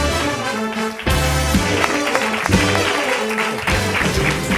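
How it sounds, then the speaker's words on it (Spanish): A theatre audience at Teatre Gaudí in Barcelona claps in a dense, sustained burst of applause, loud and close, with rhythmic beat-like accents running underneath throughout. "¡Fuerte aplauso!"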